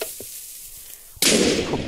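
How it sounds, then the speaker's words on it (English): A cannon shot in a video game blows up a house on a mountain map: a quiet lead-in, then a sudden loud, sustained burst of explosive crackle and rumble that carries on to the end. "Agent blowing up their house."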